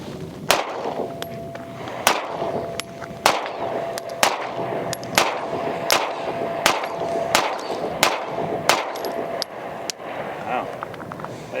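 Evenly spaced, sharp pistol shots ring out from an Atlas Ares 4.25-inch non-ported handgun at a range, about a dozen loud cracks in steady rhythm, with voices talking in the background.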